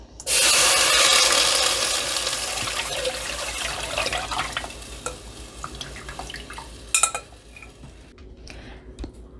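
Lapsi mixture poured into hot ghee with cloves, a loud rushing sizzle and splash at first that eases into softer bubbling and stirring scrapes, with a brief louder clatter near the end.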